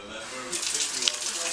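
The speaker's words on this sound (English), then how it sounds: "You gotta gently rinse it with cold water" Cold tap water runs steadily over a mushroom being gently rinsed under a faucet into a sink, a close continuous splashing hiss with no talk during it.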